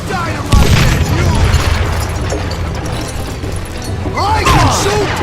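Dynamite explosion in the Wild West shooter Gunslinger: a loud booming blast erupts early and rumbles on, with a second burst near the end, while someone shouts over the noise.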